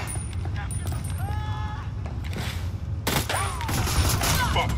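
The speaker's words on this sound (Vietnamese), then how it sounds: "Nó nghe tiếng súng rồi, nó nghe tiếng súng rồi." Gunfire in the video game Ghost Recon Wildlands, a burst of shots rattling loudly in the second half over a steady low game rumble, with someone talking over it.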